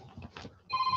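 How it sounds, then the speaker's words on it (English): A telephone rings once, a short electronic trill starting partway through after a few faint low rustles, fairly quiet and close. "I don't know why a phone ringing. A phone ring."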